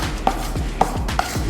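Milk and vanilla are mixed in a bowl for a cinnamon roll bundt cake. Three evenly spaced clinks of the utensil against the bowl sound over a steady background.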